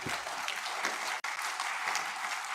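An audience of delegates at a governance roundtable gives a round of steady, moderately loud applause, with one brief dropout partway through.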